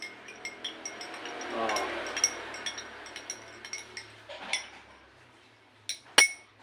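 A spoon stirs barley grass powder in a glass, giving light, scattered clinks against the glass and a sharper ring near the end, faint and close, with no speech over it.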